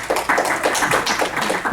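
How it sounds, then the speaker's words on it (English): Audience applause for an absent donor at a homeowners' board meeting, a brief burst of dense clapping close by. "please give him a big round of applause, everybody"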